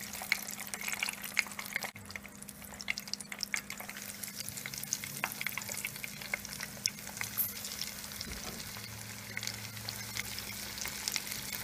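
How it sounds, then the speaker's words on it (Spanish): Chicken pieces deep-frying in oil for crispy broaster chicken give a steady, dense sizzle and crackle that holds evenly throughout, with a low hum underneath and no talking. "Tras se fríe el pollo"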